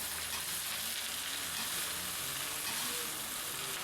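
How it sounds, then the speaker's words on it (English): Vegetables added to a hot pan for Thai noodles with shrimp give a steady, dense sizzle and frying hiss, close and continuous, with faint stirring underneath and no talking. "So I'm adding some more vegetables now."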